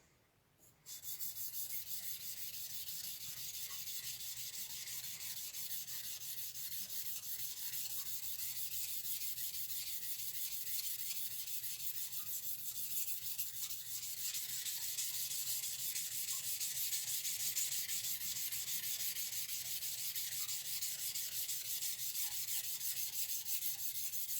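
A knife bevel is rubbed flat against a sharpening stone during polishing, making a steady, close, hissing scrape that continues without a break and with no talk.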